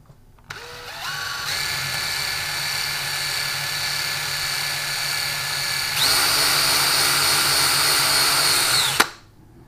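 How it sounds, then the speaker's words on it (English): Power drill whining steadily as it bores a small pilot hole in a GoPro Hero 4 camera, loud and continuous, rising in pitch midway before stopping abruptly. "Start out with a small pilot hole."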